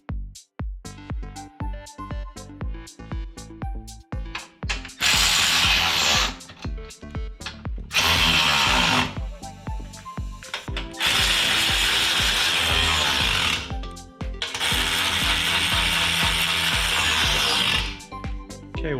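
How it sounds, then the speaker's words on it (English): Rapid clicking of a hand ratchet tightening front bumper support bolts during a collision repair, heard up close in bursts, with loud spells of continuous ratcheting separated by short pauses. "Okay, we'll tighten them better with our regular ratchet"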